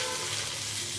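Cauliflower and pointed gourd fry in a pan, giving a steady, close sizzle with a soft hiss that keeps going throughout, and no voices.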